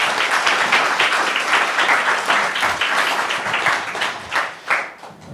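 Audience members at an environmental forum panel applaud the four panelists, steady dense clapping from a sizable room that thins and tapers off toward the end.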